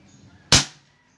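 A single sharp crack from an airgun just repaired and reactivated, one loud near shot that quickly decays to quiet.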